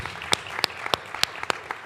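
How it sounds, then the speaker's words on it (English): An audience applauds panelists at the close of a media and democracy discussion, heard as a handful of sharp, separate claps spaced across a quiet room rather than full applause. "I'd like everyone to join me in applauding our very engaging panelists"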